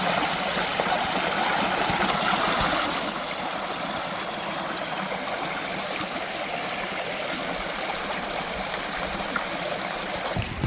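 A tiny waterfall along a hiking trail in Shawnee State Park, Ohio, splashes and trickles in a steady, close wash of running water, slightly louder at first and then settling into an even babble.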